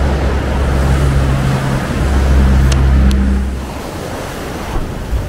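Ocean surf breaks steadily near the Peine del Viento sculpture on the coast, a loud continuous wash of waves rolling in with wind noise and a low engine-like hum.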